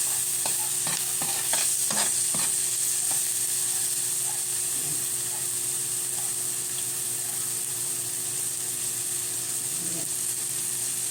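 Shrimp and aromatics sauté in a home kitchen pan for a simple misua patola, with a steady sizzle and a few stirring scrapes and clinks, fairly close and continuous without talk.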